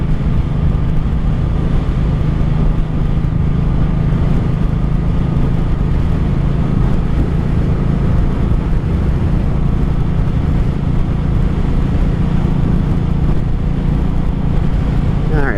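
A 1984 Honda Shadow 700 VT700C motorcycle cruises in third gear at about 3,500 RPM and just over 50 mph, giving a loud, steady low engine drone with constant wind rumble.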